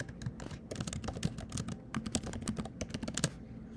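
An email being typed on a computer keyboard: a steady, fast run of close keystroke clicks with uneven rhythm and no pauses or talking.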